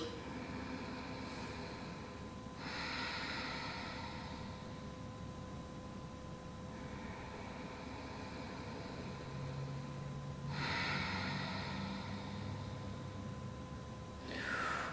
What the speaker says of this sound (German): Atme tief durch.